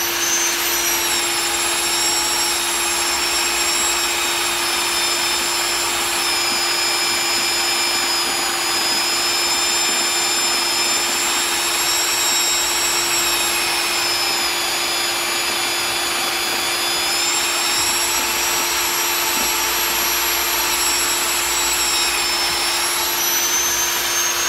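A very heavy-duty drill cuts in a carpentry shop while a vacuum cleaner runs for dust extraction, giving a loud, continuous close roar with a high whine that dips and rises slightly.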